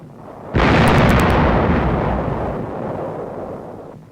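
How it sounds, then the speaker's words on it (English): Naval shelling explosions from the 1945 Kerama Islands fighting, as carried on a wartime newsreel: a loud, close blast roars in suddenly and then rumbles on in a long, heavy decay, with no voices. "Bruce, quickly establish beachheads as Jap garrisons take to the hills or are wiped out by naval shelling"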